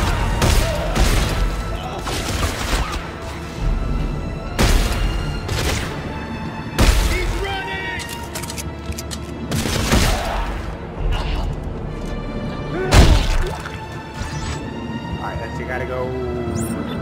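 Gunfire and heavy impacts in the video game Dead Space 3, a run of booming shots and crashes at intervals over game music, with a player talking throughout.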